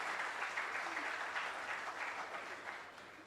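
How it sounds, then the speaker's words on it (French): Applause from an event audience at a panel on African banks and agribusiness, steady and dense for the whole stretch, fairly faint and distant, with no voices over it. "un tour d'applaudissements encore pour eux"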